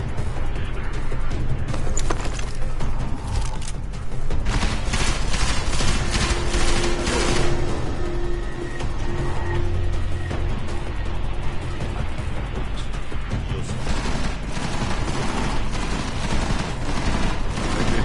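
Sustained heavy gunfire and machine-gun bursts rattle through a combat scene in Deus Ex: Mankind Divided, with crashes and mechanical clatter mixed in. The loud, continuous firing fills the whole stretch.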